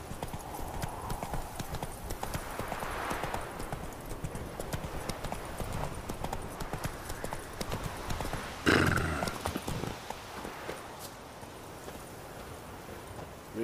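Hooves of the horse in The Witcher 3 clip-clop in a steady galloping rhythm throughout, moderately loud, with a whinny and some game ambience partway through.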